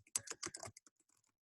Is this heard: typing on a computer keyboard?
yes